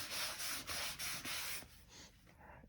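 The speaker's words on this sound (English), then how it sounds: "Some trusty wood glue there. Let's give that a wipe." Cloth wiping excess wood glue on a model Moomin house, several quick close rubbing strokes in a rhythmic series that fade into quieter scuffs.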